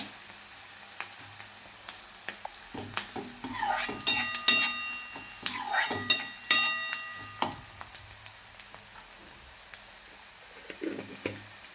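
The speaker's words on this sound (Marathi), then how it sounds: "तर कांदा भाजत आलेला आहे बघा आपला" Onion fries in a pan as it is stirred, with a steady soft sizzle broken by scraping clatters of a spoon against the pan in irregular bursts.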